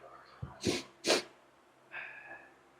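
A person sniffles and snorts through the nose in a few short, sharp bursts, then a fainter breathy sound follows, close to the listener in a quiet room.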